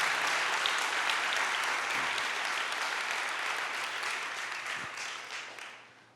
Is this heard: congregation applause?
yes